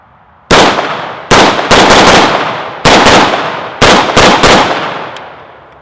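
An AK rifle fitted with an MDC muzzle brake fires six sharp, loud shots in an uneven rhythm, each crack trailing off into a short outdoor decay, with no voices.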